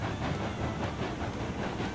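A Union Pacific passenger train pulled by locomotive number 19 rolls along in Railroads Online, giving a steady, moderately quiet rumble with a soft rhythmic clatter of wheels and a faint hiss.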